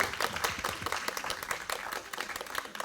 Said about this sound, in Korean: 박수를 받으며.